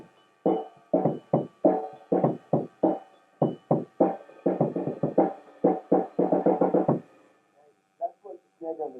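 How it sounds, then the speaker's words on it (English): A snare drum on a 1990s drum kit, with wires stretched across its bottom head, cracks in a rapid series of sharp, loud, evenly spaced hits, heard close and alone, then a few softer strokes at the end. "It's called the snare drum because there's wire across the bottom."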